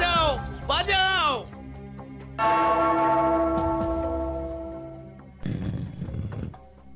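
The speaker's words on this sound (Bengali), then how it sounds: "ওই ঘন্টাটা বাজাও বাজাও।" A large bell is struck in a Gopal Bhar cartoon episode, ringing out with a long sustained metallic tone that slowly fades, bracketed by excited cartoon voices shouting before and after.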